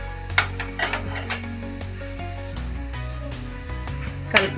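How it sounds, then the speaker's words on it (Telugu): Curry leaves, coriander and mint fry in a tempering pan for raw mango pulihora, a steady sizzle under repeated metal spoon scrapes and taps against the pan, with a sharper clink near the end. "కరివేపాకు, కొత్తిమీర, పుదీనా వేసి చక్కగా కలుపుకోవాలి."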